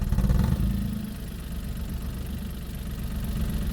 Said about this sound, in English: Vehicle started.